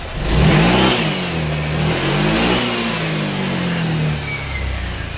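A Honda Click scooter engine runs steadily after a sensor repair, a loud close mid-pitched hum that rises slightly near the start and then holds an even, slightly uneven idle-like drone with no talking.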